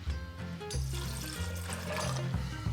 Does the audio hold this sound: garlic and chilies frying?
no